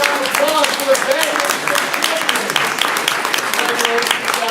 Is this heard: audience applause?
yes